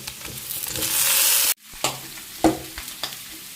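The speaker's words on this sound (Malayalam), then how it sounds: "എല്ലാം കൂടി ഇട്ട് വഴറ്റിയെടുക്കാം" Onion, curry leaves and tapioca sizzle in a pan, a steady frying hiss that cuts off abruptly, then returns as softer sizzling broken by scraping stirs.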